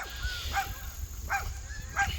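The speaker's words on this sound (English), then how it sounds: "let me get away from the neighbor's dogs while I talk about these" Neighbor's dogs bark outdoors by a fig orchard, three short yelping barks spaced about every 0.7 seconds, moderately distant over steady background hum and faint noise.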